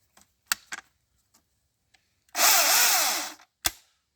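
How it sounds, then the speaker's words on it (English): Milwaukee M18 Fuel battery chainsaw revving in one loud, steady burst of about a second, with a rising-then-falling motor whine, set between scattered handling clicks and a sharp knock. "there's no noise except for the chainsaw"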